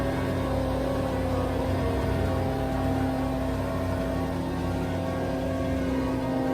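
A truck-mounted carpet cleaning unit, the Devastator 1, runs parked outside a cleaning job as a loud, steady engine drone with a constant hum, unbroken and without talk.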